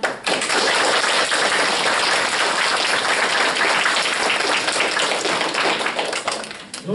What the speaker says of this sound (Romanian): Eu zic că fratele Manu ar fi încurajat dacă l-am aplaudat.